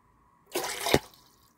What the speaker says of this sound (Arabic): نص كوباية رز وهنغسلها كويس جدا جدا